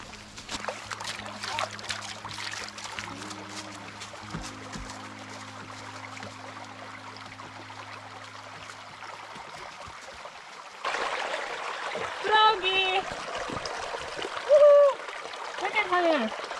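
Water trickling and splashing in a stream out in peaceful countryside, a steady broadband wash that swells louder in the second half, with a voice exclaiming briefly over it.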